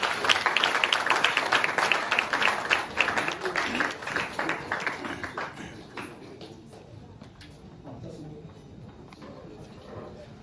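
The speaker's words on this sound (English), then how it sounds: "Shall we welcome him with a big round of applause?" An audience at a technical college of education centenary launch claps to welcome the council chairperson. The clapping is brisk and fairly close, then thins and fades within a few seconds, and talk continues under it.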